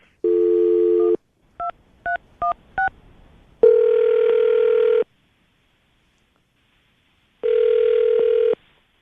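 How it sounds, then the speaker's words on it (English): A telephone call placed during a morning radio show: a series of short dialing tones, then two long electronic ring tones separated by a pause, loud and clear with no talk. "We're going to call her right now, see if we can get her on the phone,"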